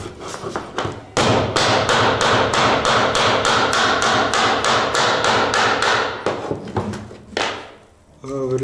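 Laminate flooring boards are tapped into place with a rapid series of sharp, close hammer blows, followed by a few slower knocks at the end.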